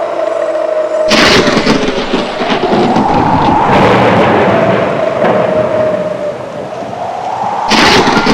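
Thunderstorm roar in a rural village setting: long rolling rumbles and heavy crashing booms fill the scene, with sharp bursts near the start and end and a steady dense wash between, loud and close, with no voices.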